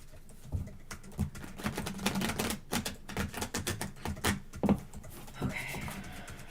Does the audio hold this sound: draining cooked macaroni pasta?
no